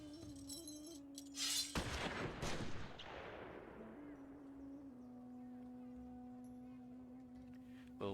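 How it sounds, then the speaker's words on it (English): A couple of warning shots from naval guns in the strategy game High Fleet: a sharp loud blast followed by a second crack, each trailing off into a long fading rumble over a steady low hum. "We'll give them a couple of warning shots."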